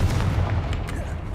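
A Confringo blasting spell explodes in a Harry Potter video game, a dense booming burst with low rumble that fills the whole short stretch, as a voice calls out spell names.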